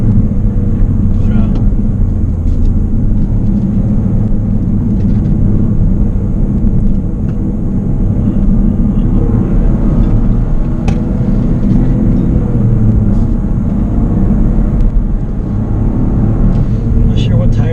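Toyota GR Corolla turbo engine under full throttle heard from inside the cabin, a loud, steady low droning roar with road rumble, continuous throughout, a voice talking over it.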